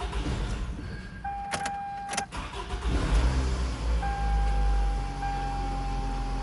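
A Toyota engine cranks and starts after battery disconnection and a water pump change, with clicks and chimes from inside the car, then settles into a steady, low idle with a faint electronic tone.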